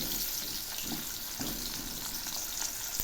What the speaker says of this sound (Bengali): এবার আমি ভেজে নিচ্ছি সজনে।